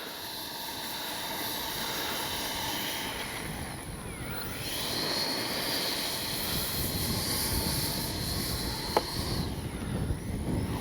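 Twin 64mm ducted fan jets on an Arrows RC F-15 model whine and hiss steadily in the open, a continuous airy rush that builds slightly in the middle and stays fairly distant.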